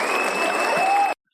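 Canned applause from a Riverside soundboard: dense, steady clapping and cheering, loud and close, lasting about a second before cutting off abruptly to silence.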